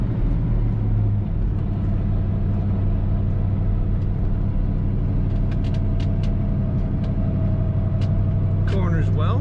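A 1972 Oldsmobile Cutlass S cruising along a road, a steady low engine drone and road rumble from inside the cabin, with faint clicks and rattles toward the end.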